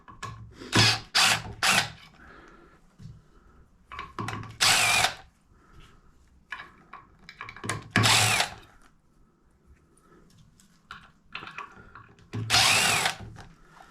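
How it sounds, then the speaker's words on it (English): A power drill whirs in several short bursts with pauses between, removing faceplate screws nearby amid light handling clatter. "we can take out the screws holding this faceplate in"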